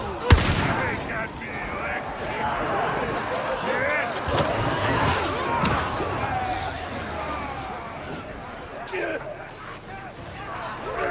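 A grenade detonates with a sharp, loud blast at the start of a battle in Warhammer 40k: Darktide. Continuous gunfire and combat noise follow, with voices talking throughout.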